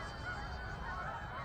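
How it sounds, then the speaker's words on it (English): Geese honk continuously and faintly in the distance outdoors, a soft steady chorus of calls with no talking over them. "Geese, here there we are."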